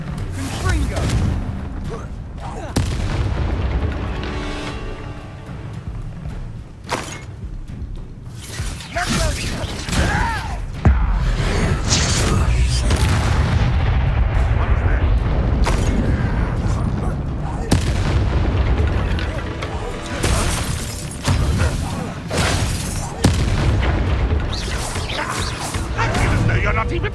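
Confringo fire blast spells in Hogwarts Legacy erupting in repeated loud booming explosions and crashes, dense and chaotic, with shouted voices in between.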